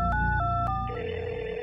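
A telephone ringtone sound effect in a Hindi horror audio story plays as a short series of steady electronic tones over a low background music bed.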